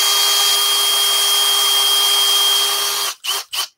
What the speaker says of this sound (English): I'm going to just drill a little bit deeper here.